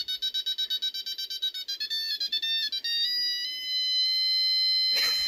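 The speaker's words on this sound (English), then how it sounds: "you can hear and see the collar beeping" A GPS tracking collar beeps in a rapid regular pattern of high tones at close range. The beeps then merge into a sustained tone, followed by a short burst of noise.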